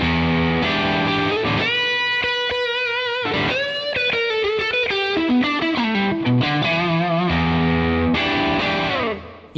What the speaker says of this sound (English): I've got the Steel String Clean Drive. This is a Vertex effects pedal.